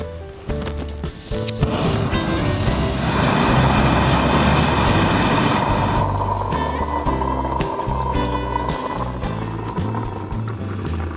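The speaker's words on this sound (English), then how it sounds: "there was a car came in" A passing car rolls by a camp site, its engine and tyre noise swelling to a steady rumble mid-clip before slowly fading, with no voices heard.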